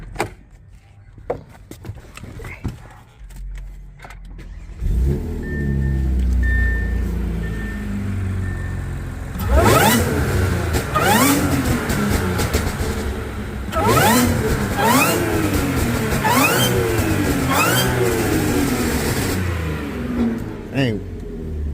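The engine of an Audi A6 3.0T fitted with a modified airbox starts and idles, then revs up again and again in loud, rising blips heard close by.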